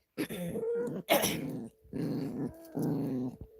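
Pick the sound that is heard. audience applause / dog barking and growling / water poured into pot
dog barking and growling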